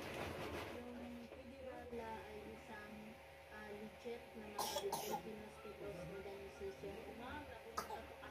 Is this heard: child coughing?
yes